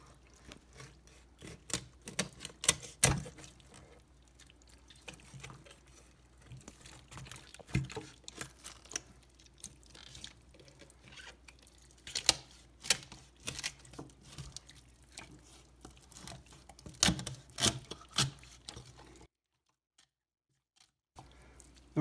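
A cleaver works through turkey bone while a whole turkey is spatchcocked, giving sporadic sharp chops and cracks amid quieter rubbing and crinkling handling noises. The cuts are close but fairly soft, with a brief silent gap near the end.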